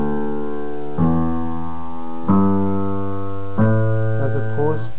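Piano plays a song intro using only the lower notes, three sustained low chords struck about a second apart, each ringing rich and clear with no voice over them.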